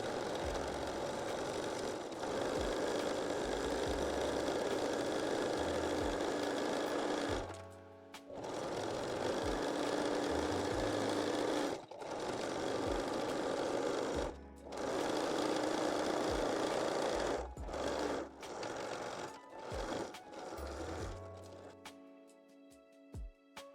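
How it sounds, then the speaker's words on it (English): A sewing machine runs a 3-step zigzag stitch attaching elastic to fabric, its steady rapid whir continuing in long runs broken by brief pauses and restarts, ending with a few short bursts. "stitch the elastic with zigzag, 3-step zigzag or your cover stitch machine"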